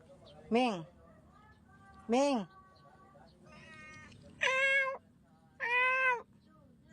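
A clingy pet cat meows four times in a quiet house, two short rising calls followed by two longer drawn-out meows, close and clear with faint background between.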